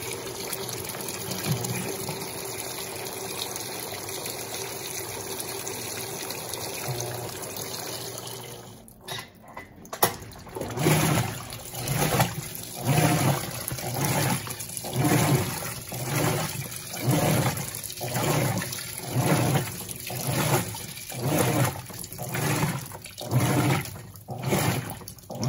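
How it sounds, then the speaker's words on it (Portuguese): Electrolux Blue Touch 12kg washing machine on its first rinse with bath towels and hot water: a steady wash hum breaks off near the nine-second mark, then the drum churns in regular sloshing pulses, each lasting about a second. "Esse é o primeiro enxágue."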